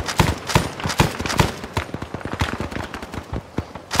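Arma 3 gunfire rings out as a rapid series of sharp, loud reports in quick bursts and single shots, some near and some more distant, with no voices over them.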